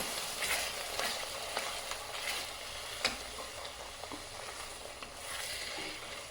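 Ground spices roast in a pan for a boneless chicken curry, a soft continuous sizzle with occasional light scrapes and taps from stirring, fairly quiet and steady throughout, no talking.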